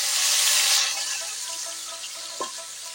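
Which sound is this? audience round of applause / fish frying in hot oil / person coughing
fish frying in hot oil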